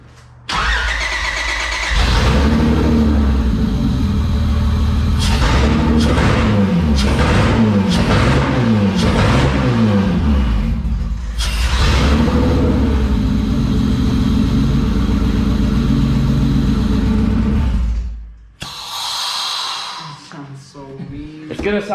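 A loud J32 V6 swapped into an EG Honda Civic, running through a test pipe, starts up, then revs hard in repeated blips before dropping to an idle. A voice speaks briefly near the end.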